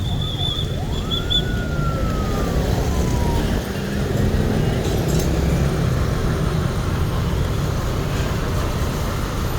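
Fire truck sirens from four or five trucks at a fire in Phonkheng, Laos, wail and sweep early on over constant loud rumbling background noise.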